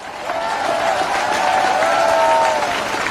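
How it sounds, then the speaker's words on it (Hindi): Audience at a political rally breaks into steady applause, a dense crowd of clapping that swells and holds throughout, with some shouting mixed in. "अरे ऐसे ताली हो जाओ।"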